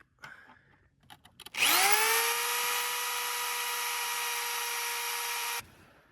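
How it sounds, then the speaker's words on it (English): A drill boring a hole with a 9/16 bit whines up to full speed after a few short clicks and bursts, then holds a loud, steady high-pitched tone for about four seconds before cutting off abruptly. "This size drill bit we used is 9/16"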